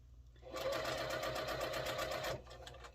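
Close, quiet sewing machine stitching a quarter-inch seam on a star quilt block, a short steady whirring run of under two seconds with a soft start and clean stop, alone with no talking.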